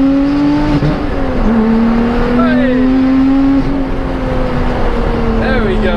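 A Lotus sports car's engine revs up and down through gear shifts on a track, a loud close drone from inside the cabin with falling pitch at each shift, while a voice calls out briefly.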